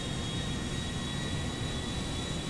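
An A320 airliner in GTA 5 rolls down the runway on takeoff, giving a steady, loud broadband engine roar with a constant whine that persists unchanged throughout.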